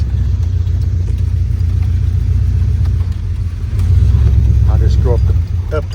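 An old pickup truck's engine runs at low speed, a steady deep rumble that holds throughout, with a slight rise in level near the middle and faint voices underneath.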